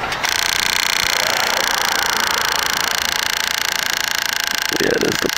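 A failing, overheated fuel pump on a Chinese motorcycle runs with a loud, continuous rapid rattling buzz, steady and close, and a voice briefly speaks near the end.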